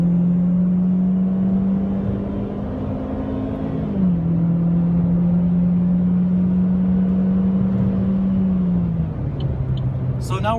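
A 2014 Chevy Sonic LT launching and accelerating, its engine a steady droning hum heard from inside the cabin, dipping briefly as it shifts gears twice and then continuing to pull.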